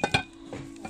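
Small saucepans for sale in a discount store are picked up and handled, giving two quick metallic clinks followed by faint soft knocks, close by and brief.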